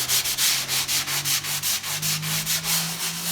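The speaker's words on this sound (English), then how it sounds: "So I like to start out just kind of lightly sanding." Sandpaper lightly rubs over dried patching compound on a wall repair where paint peeled off after a command strip was removed, a close, steady back-and-forth rasp in quick even strokes, with no talking.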